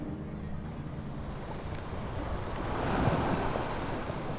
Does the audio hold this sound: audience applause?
no